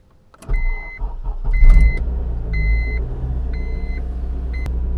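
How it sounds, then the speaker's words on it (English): A Honda Civic engine cold-starts with a brief cranking burst, then settles into a steady low rumbling idle heard up close from the cabin, with repeated short electronic chimes sounding over it. "Let's have a cold start."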